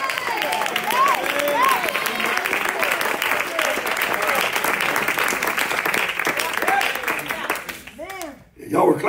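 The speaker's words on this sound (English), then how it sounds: "Y'all were clapping a while ago" A church congregation applauds steadily through a sermon, the dense clapping running under a preacher's raised, sing-song voice, then thinning out near the end as he keeps preaching.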